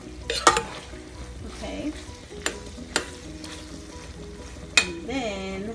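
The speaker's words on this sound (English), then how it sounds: "this is my ground meat that I'm cooking." Seasoned ground taco meat fries in a pan with a steady, close sizzle, broken by a few sharp stirring scrapes and utensil knocks, and a voice speaks briefly.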